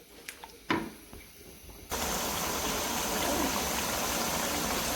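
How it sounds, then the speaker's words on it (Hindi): One litre of water pours into a cooking pot for pulao, a steady loud splashing rush that begins suddenly partway through after a few quiet clicks and knocks. "अब मैं इसके अंदर डालूँगी 1 लीटर पानी"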